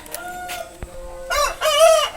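Hill chickens close by, with a short cluck followed by a loud rooster crow that rises and falls in the final second.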